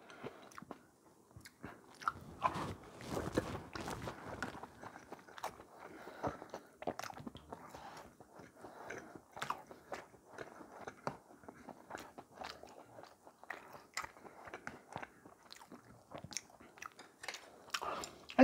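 Someone eats pork gukbap with kkakdugi radish kimchi close up, with repeated crisp crunches and wet chewing in an irregular rhythm over a quiet background.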